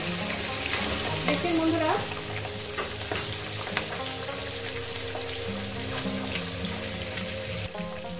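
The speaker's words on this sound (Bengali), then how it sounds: "আমার মাছের মাথাটা ভাজা হয়ে গেছে" A katla fish head fries in hot oil with a steady, close crackling sizzle that continues throughout, while a voice speaks briefly.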